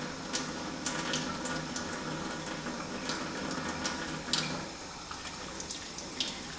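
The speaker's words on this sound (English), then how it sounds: "Very quickly dunk the brushes in the soap and then just swirl them around like this." Makeup brushes swirled in soapy water and rinsed under a running tap, a steady close splashing and trickling wash of water with small sharp splashes and no talking.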